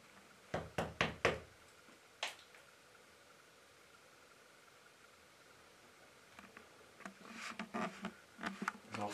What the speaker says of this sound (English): I'm gonna knock the ceiling and just see if we get any interaction